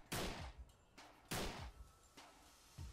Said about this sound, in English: Is that this shooting?